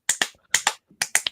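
Fans clapping at a baseball game, a sharp close handclap pattern in quick pairs repeating three times, crisp and dry with short silences between bursts and no talk.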